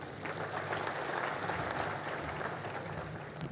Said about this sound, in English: Kindly let us give a better applause to the message of the Holy Father.